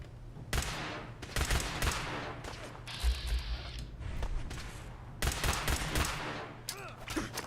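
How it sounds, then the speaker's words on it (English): Bursts of gunfire from gunners ring out in Fallout 4 with the Sim Settlements 2 mod, several loud volleys separated by gaps, with mechanical clatter and a quiet voice between shots. "Alright, I hear shots in this direction."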